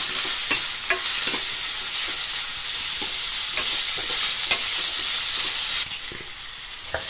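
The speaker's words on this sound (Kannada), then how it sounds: "ಈಗ ನೀರುಳ್ಳಿ ಎಲ್ಲ ಎಣ್ಣೆಯಲ್ಲೇ ಚೆನ್ನಾಗಿ ಫ್ರೈ ಆಗಬೇಕು" Onions and green chilies frying in oil for a fenugreek stir-fry, a steady close sizzle throughout with repeated scraping stirs of a spoon against the pan, no talking.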